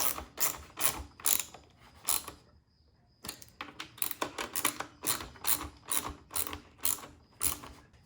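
A ratchet wrench tightening bolts on a Predator earth auger, steady bursts of close, crisp clicking with a brief pause before the cranking resumes and continues rhythmically.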